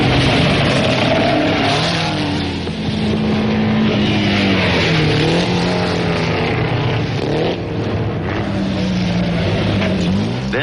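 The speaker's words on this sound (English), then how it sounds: "Even Pablo's Delage number 9 cannot match the Peugeots" Vintage racing cars, a Delage and Peugeots, roar through a race, engines droning loudly and continuously with shifting pitch as they rev and pass.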